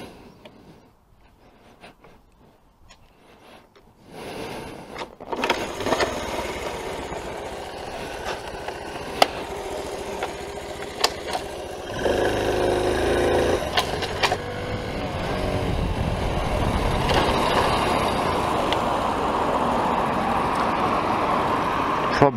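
A 1980 Honda C70 Super Cub motorcycle starts up after a quiet moment, then its small engine runs steadily and builds while riding, with a clunk partway through and road noise underneath, fairly close.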